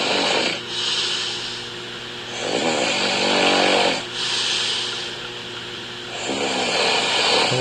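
Loud, rasping snoring from a sleeper with mild sleep apnea, recorded by a phone sleep app, coming in long rhythmic breaths with brief pauses between them and no talking.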